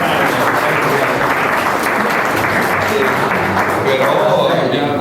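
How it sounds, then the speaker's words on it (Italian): Dense, loud audience applause fills the room at a sundial conference during a sundial festival, a continuous close wash of many hands clapping with voices faintly underneath. "Allora un applauso per Tinelli"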